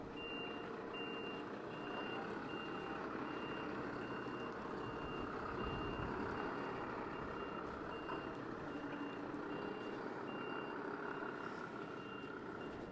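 A truck reverses and drives out of a Scania yard in Sheffield, its reversing alarm beeping steadily over a constant engine rumble for the whole stretch.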